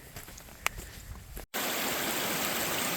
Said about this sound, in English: After following the stream for a little while, we're now crossing it.